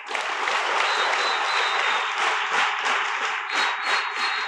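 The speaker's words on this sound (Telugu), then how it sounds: "మీ క్లాప్స్ తో కొట్టు గట్టిగా సార్కి" A crowd at a TTA Seva Days 2023 scholarship ceremony in Banswada applauds loudly and steadily, a thick, sustained wash of many hands clapping close by with no letup.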